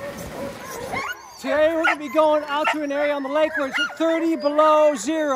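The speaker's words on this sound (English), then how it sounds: "You can hear the dogs barking in the background." Eager sled dogs in an Alaskan kennel, ready for mushing in temperatures of 30 below zero, yip, whimper and bark in a rapid, continuous, close chorus, while someone talks over them.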